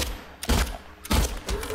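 Handgun shots in Silent Hill 2 Remake, three sharp loud bangs spaced roughly half a second apart, each with a short booming tail, no talking over them.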